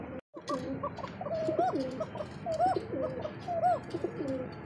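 Pigeons coo in repeated soft, rolling phrases, several calls in a row at close range over a quiet coop-side background with no talk.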